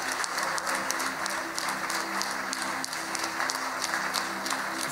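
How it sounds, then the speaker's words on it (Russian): A hall audience claps steadily and continuously at a congratulatory ceremony, the applause dense and even across the whole stretch, with no voices over it. "Под ваши аплодисменты."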